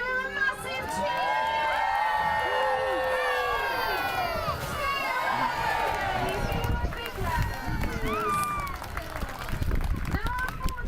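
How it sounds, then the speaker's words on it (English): Crowd at a Whipsnade Zoo sea lion show cheering and shouting, with children's voices and scattered clapping, loud and close, rising in excited bursts with a presenter talking over it. "give her a massive cheer"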